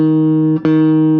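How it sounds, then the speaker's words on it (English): A clean electric guitar note from a Jackson JS11 Dinky rings steadily, briefly interrupted by a quick pick attack midway before sustaining again, close and fairly loud. "You can hear this clean."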